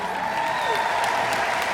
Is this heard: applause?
yes